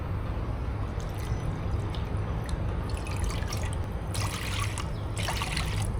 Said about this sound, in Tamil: இப்போ இதில் 4 கப் தண்ணி சட்டியில் ஊற்றுவோம்